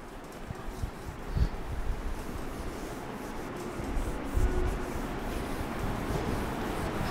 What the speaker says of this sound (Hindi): चलिए मैं इसको एक बार रब कर देता हूं